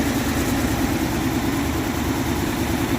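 A 1962 Dodge D200 pickup with a Semi Hemi engine idles steadily up close, a loud, even low rumble with constant vibration and no pauses or voices.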